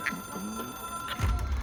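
A telephone rings in the video game Control, an electronic tone held steadily under a low background hum that swells into a rumble near the end.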